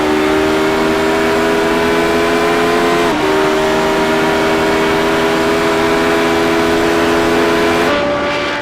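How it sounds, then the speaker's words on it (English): A Roadster race car, number 70 from Midnight Racing, climbs a mountain course, its engine holding a loud, steady drone. The pitch dips sharply around a gear change, then climbs again, close and continuous with no talk. "Aaron Oliver, Midnight Racing car, number 70, starting on his way up the mountain"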